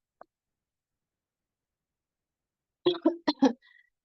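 A few short, sharp coughs in quick succession after a long stretch of near silence, close to the microphone, from a lecturer who is feeling unwell.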